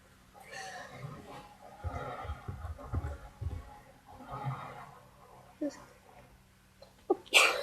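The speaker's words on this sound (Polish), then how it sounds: "musiałam kichnąć, bo już nie wytrzymałam." A woman sneezes abruptly near the end, a sharp loud burst after stretches of her talking over Minecraft gameplay.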